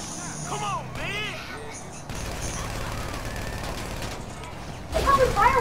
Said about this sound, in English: They popping fireworks!